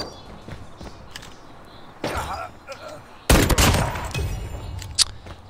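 Gunfire from the mobile shooter game Call of Duty Mobile, quiet at first, then a sharp shot and a louder burst of crackling fire with impacts and scattered pops, close and punchy.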